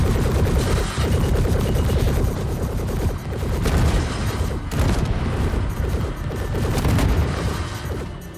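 Gunfire in Star Citizen while shooting at stationary targets, with rapid automatic bursts and heavy booms over a dense, loud mechanical din, nearly continuous for the whole stretch.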